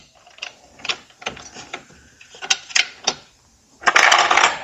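A bolt is fastened by hand on a Hyper GoGo Cruiser 12 kids electric motorcycle, giving a run of quick ratcheting clicks and metallic ticks, then a louder burst of rattling at the end, close by with no talking.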